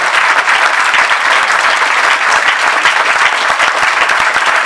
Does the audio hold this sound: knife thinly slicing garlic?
no